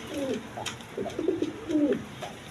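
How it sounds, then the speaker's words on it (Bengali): Danish pigeons cooing close by in a short series of soft, throaty coos, with no talking. "এখানে এক প্লেট ড্যানিশ কবুতর আছে"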